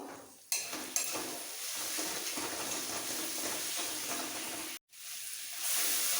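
Spices and half a spoon of sugar sautéing in a pan for mango rice, giving a steady sizzle with stirring scrapes throughout and a brief dropout near the end.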